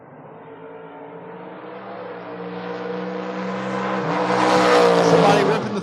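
A Mustang and a Camaro drag race at a Door Wars event, their engines roaring together and rising steadily in pitch as they accelerate away, growing louder toward a peak before cutting off, with an announcer talking over them.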